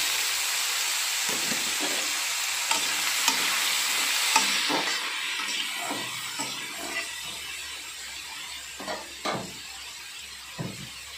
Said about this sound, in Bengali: এবার এই ফোড়নের উপরে আমি একটা কুচানো পেঁয়াজ দিয়ে দিচ্ছি। আর একটা কেটে রাখা বেগুন দিয়ে দিলাম।